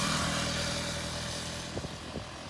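A KTM Duke 250 motorcycle with a 248.8 cc engine runs steadily with a low, continuous hum, with a couple of brief revs near the end.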